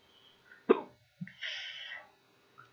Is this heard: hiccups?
yes